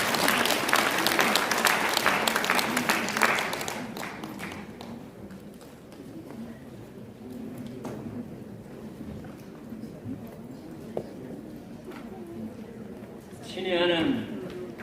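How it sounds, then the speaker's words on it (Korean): An audience at a Daegu-Gyeongbuk church elders' association lecture claps to welcome Jeon Jae-gyu, honorary president of Daeshin University. The applause is dense and close for about four seconds, then fades into quiet room sounds. "우리 박수로 한번 환영하겠습니다."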